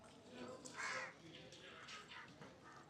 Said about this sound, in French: avec les corbeaux sur le toit